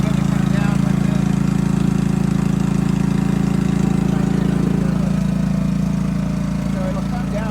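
A truck engine idles steadily while a hydraulic gooseneck (RGN) trailer is lowered off-road on the highest setting. The loud, constant low hum runs unbroken throughout and eases off slightly near the end.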